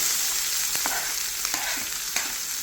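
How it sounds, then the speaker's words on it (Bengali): Ginger, chilli, onion and garlic drop into hot oil tempered with nigella seeds, giving a steady, close sizzle with a few sharp stirring scrapes and no talking. "কালো জিরে ফোড়ন দিলাম, তার সঙ্গে আদা, লঙ্কা, পেঁয়াজ আর রসুন যে তখন রেডি করেছিলাম সেইটা এর মধ্যে দিয়ে দিচ্ছি।"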